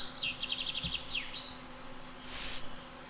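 A wasp buzzes in the Anka video game, a wavering insect drone that rises and dips in quick passes near the listener, followed by a short burst of noisy hiss.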